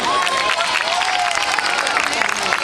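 Audience at a Catalan Harry Potter book launch club event giving a loud round of applause for reader Queco Novell, dense clapping mixed with some cheering and a voice gliding over it early.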